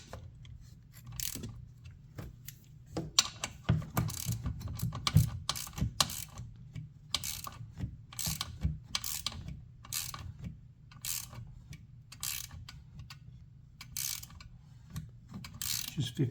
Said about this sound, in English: So we're going to tighten up the battery hold down mount here, battery head